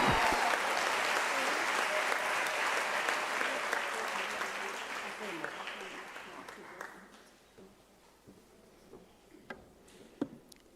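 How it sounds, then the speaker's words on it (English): Audience applause at a university autumn graduation ceremony in a large hall: dense, steady clapping from a big crowd that gradually thins and fades out, leaving a few scattered late claps at the end. "can I request you to give them a round of applause?"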